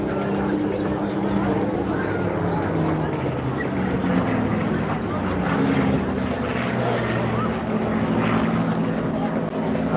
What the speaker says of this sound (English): Spitfire leading the one big.